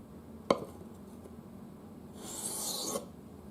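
A sharp click, then a steady gritty scraping stroke ending in a hiss of metal sliding on stone, heard close and fairly quiet.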